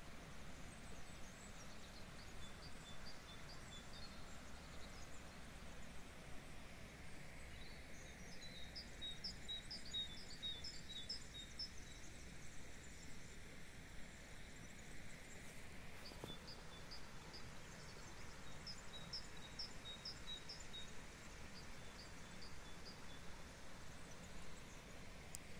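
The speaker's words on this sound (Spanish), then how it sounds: "Mirad el sonido de los pájaros." Faint birdsong chirps repeatedly in the distance over a steady background hiss, continuing for a long stretch.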